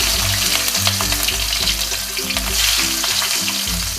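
Capsicum with a cinnamon stick and three cloves sizzles in hot oil in a pan, a steady loud frying crackle with occasional stirring scrapes throughout, no voices.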